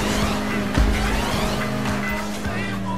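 Engine roar of a car spinning out in GTA V, with a thump and tire noise under steady motor drone, while a player talks over it.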